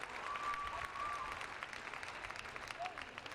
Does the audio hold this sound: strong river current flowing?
no